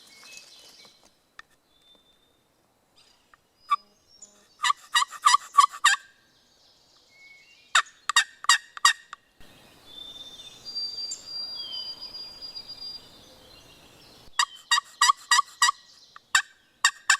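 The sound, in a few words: wild turkey gobbling in the distance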